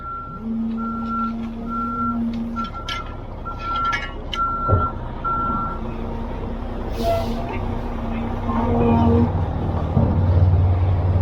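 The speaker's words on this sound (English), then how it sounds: "Just moving the cement truck." A cement truck at a concrete pour moves with its reversing alarm sounding repeated steady beeps over a low diesel rumble. The beeping stops partway and the engine grows louder, with faint voices in the background.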